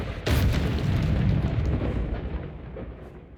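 A Confringo fire-blast spell in Hogwarts Legacy goes off as a single loud, close boom that lands sharply and then rolls into a long rumbling fade over a few seconds.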